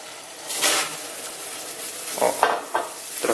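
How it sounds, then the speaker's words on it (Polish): Stirring banana millet pudding in a pot: a spoon scrapes and swishes through the thick mixture in several short strokes, close and moderately loud, with a quiet background and no talk. "banan i teraz to mieszamy przez 2 minuty"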